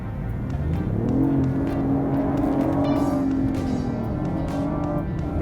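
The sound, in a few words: BMW i8 engine accelerating in sport mode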